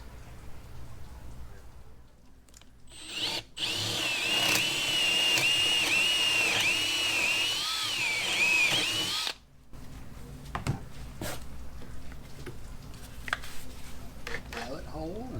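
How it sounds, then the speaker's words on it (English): A power drill bores a pilot hole, then a hole saw cuts through the framing of a fishing boat's pit, a loud sustained whining grind for several seconds before stopping, with quieter workshop noises and some talk around it. "Pilot hole and saws away."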